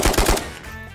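Automatic gunfire in the VR shooter Ghosts of Tabor: three loud, close bursts in quick succession over the first half second, then a ringing decay with no voices.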